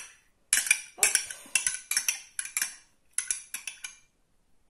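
A spatula scrapes and taps against a bowl while mixing toasted sesame oil with a teaspoon of sugar, in short irregular bursts of clinks and scrapes separated by brief pauses.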